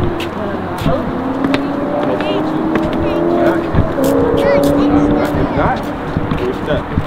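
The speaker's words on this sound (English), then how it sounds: "Car right here, we're gonna go drive down there." A video game car drives along with its engine droning and rising in pitch, passing tire and road noise beneath, while a player talks over it throughout.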